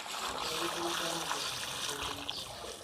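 Hot water pours into a pot of beef trotters, a soft continuous trickle and splash at close range, with faint background noise underneath.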